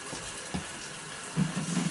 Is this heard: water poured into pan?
yes